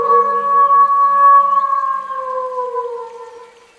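Wolves in a forest, used as a fairy-tale sound effect, let out a long, clear, sustained howl that slowly sinks in pitch and fades out, heard alone with no talking.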